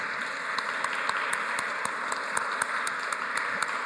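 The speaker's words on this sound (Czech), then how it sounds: "Můžeme si zatleskat." An audience at a scout talk in a red-brick church in Varnsdorf claps together, a dense, steady patter of many hands that runs without pause for the few seconds of the clip.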